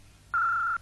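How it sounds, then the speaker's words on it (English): A cartoon secret gadget phone gives a single short, steady electronic beep, clean and high-pitched, over a faint background hum. "I think that's the top secret Gadget phone, Uncle Gadget."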